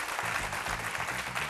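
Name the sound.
audience applause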